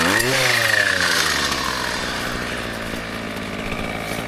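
A two-stroke brushcutter runs loud and close, its engine note dropping from a high rev as the blade bogs into a small tree beside spruces, then settling into a strained, uneven drone on a farm.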